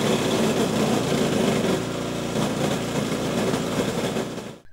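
A small engine of the kind that drives a bio shredder or pump runs steadily at high revs, a loud continuous buzzing drone that cuts off abruptly at the end.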